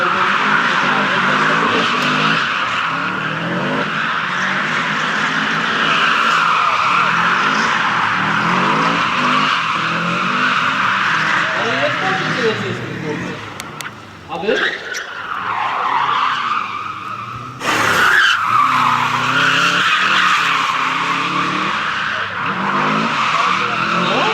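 A rally car at Rally Piaseczno 2010 skids through a long, sustained tire squeal over a loud, straining engine, with the pitch wavering as it slides, a brief dip and a burst of noise partway through, then continuing skid.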